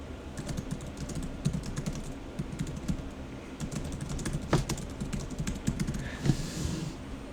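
Steady typing on a computer keyboard, a continuous patter of light key clicks at moderate volume, with a few louder taps standing out, heard alone without any voices.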